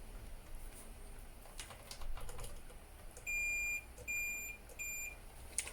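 A repaired loudspeaker, its dust cap not yet refitted, plays three short steady test beeps in a row, clear but modest in level over a faint hiss.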